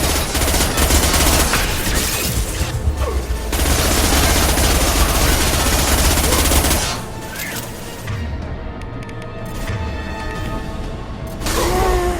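Sustained automatic gunfire from a firefight in Mass Effect 2 on the Collector Ship, dense and loud for about seven seconds, then easing into sparser shots and a quieter stretch before another burst at the end.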